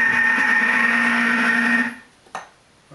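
A Thermomix TM31 kneads bread dough of spelt and rye wholemeal flour with lukewarm water on its dough setting, a steady loud motor whir running for about two seconds before cutting off, followed by a single brief click.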